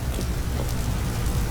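Rain falling in the Vintage Story video game, a steady, dense hiss of drops with a low rumbling undertone, continuous and fairly loud with no talking.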